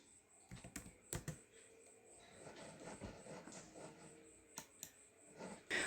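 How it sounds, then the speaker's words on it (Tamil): Keys clack on a computer keyboard in irregular bursts of sharp taps, some isolated and some in quick runs, fairly quiet and close against a low background hum. "அடுத்து கோட் ரன்னர்னு டைப் பண்ணுங்கள்."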